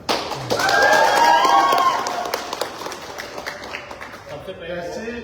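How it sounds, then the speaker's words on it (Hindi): Audience applause for Vishal at a business event celebrating two Audi cars, a dense burst of clapping that swells over the first two seconds, then thins to scattered claps and crowd noise with talk underneath. "विशाल के लिए स्पेशल तालियां होनी चाहिए।"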